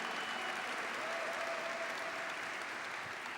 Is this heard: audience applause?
yes